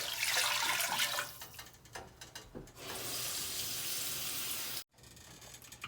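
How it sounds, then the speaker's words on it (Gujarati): Water gushes in a steady stream into a pot, three to four bowlfuls for Gujarati dhokli, followed by a few clatters and splashes, then the pouring resumes briefly. "આપણે પાણી રેડીશું અંદર"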